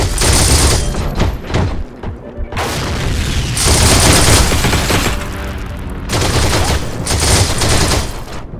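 Loud, sustained machine gun fire in the Heroes & Generals war game, long rattling bursts broken by short pauses, close and dominant with no talking.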